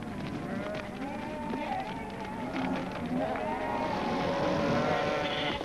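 Sheep bleat amid a busy background of shuffling and movement at a farm shearing, several overlapping calls rising over a steady, fairly loud din.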